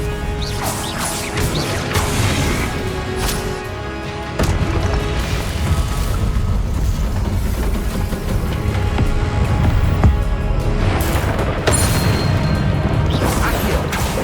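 A Confringo blasting curse explosion in Hogwarts Legacy, loud booming crashes and smashing impacts over continuous chaotic combat noise.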